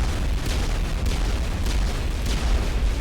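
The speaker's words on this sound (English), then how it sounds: "Ooh, big booms." Explosions in the video game Mass Effect: a dense, loud roar of game noise with several short bursts and booms layered through it, and no talking.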